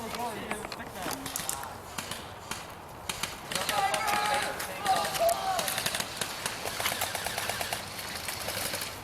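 Rapid bursts of airsoft fire from a Thompson gun during an outdoor skirmish, sharp repeated clicks in irregular strings, fairly near and mixed with players talking and moving through brush.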